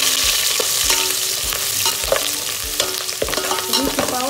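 Whole spices, mustard seeds, ginger-garlic paste and green chillies frying in a hot tempering for veg pulao, a close crackling sizzle punctuated by repeated sharp spatula scrapes and clinks, no voices.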